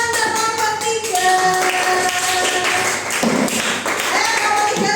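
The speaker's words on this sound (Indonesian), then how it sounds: "tepuk tangan untuk kelompok 3" A fifth-grade class claps for group 3 in a classroom, scattered rhythmic hand claps mixed with sustained musical tones and background voices, fairly loud and close.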